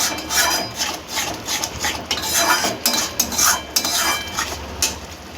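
Pomfret curry with sauce is sautéed and stirred in a pan, with steady scraping and clinking strokes of a utensil against the metal running throughout at close range.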